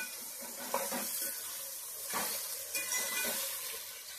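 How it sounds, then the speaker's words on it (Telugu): Vegetables for pulao, including large-cut potatoes, sizzle in oil in a pan, a close steady frying hiss broken by several scraping bursts of stirring. "ఇవన్నీ కలిసి చక్కగా వేగుతా ఉన్నాయి, వేగాలి బాగా."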